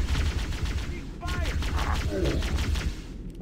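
Gunfire in Halo: Combat Evolved, with steady rapid automatic bursts throughout and a few chirping weapon effects layered over the shooting.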